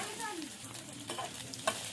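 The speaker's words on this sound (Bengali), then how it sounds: "পেঁয়াজটা দিয়ে পেঁয়াজটা একটু ভাজা ভাজা করে নেবো।" Chopped onion with ginger and garlic frying in a pan while being stirred, with a close, steady sizzle and repeated scraping scrapes of the spatula over two seconds.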